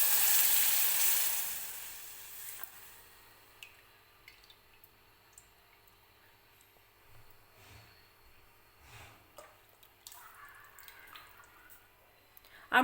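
Chickpea-lentil cooking water poured into a pan of spices for an amti: a loud hissing, sizzling rush for about two seconds, then quiet scattered drips and small clicks.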